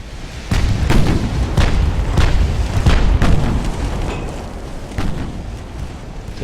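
Naval gunfire in Ultimate Admiral: Dreadnoughts, with a 6-inch shell hit: a series of deep booming cannon blasts and explosions, several heavy thuds in irregular succession over rumbling background.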